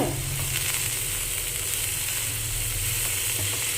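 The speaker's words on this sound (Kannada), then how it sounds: "ಒಂದು ಸೈಡ್ ರೋಸ್ಟ್ ಮಾಡ್ಕೋಬೇಕ್ರಿ" A sandwich sizzles steadily in a hot pan as one side roasts, a close, continuous frying hiss with no talk over it.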